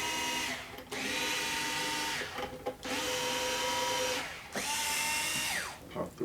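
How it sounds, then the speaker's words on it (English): A power drill fitted with a guitar tuner attachment loosens the strings, whirring in three long, steady bursts with short pauses between them, close and alone. "I brought my little attachment for all different tuners. So we're just going to loosen up the strings."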